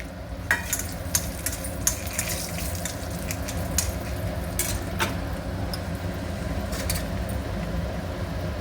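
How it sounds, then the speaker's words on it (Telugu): Asafoetida and dried red chillies fry in hot oil for a cucumber roti chutney, a steady crackling sizzle broken by sharp clicks and stirring scrapes scattered throughout, with no voices. "కొంచెం ఇంగువ వేస్తున్నానండి. అందులోనే ఎండుమిర్చి."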